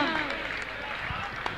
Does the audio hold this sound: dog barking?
no